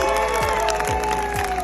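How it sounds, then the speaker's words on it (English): Big round of applause and cheering from a film festival audience honouring a movie's crew, dense and steady, with a crowd murmur under it and no clear speech. "let everybody get a big round of applause for these guys"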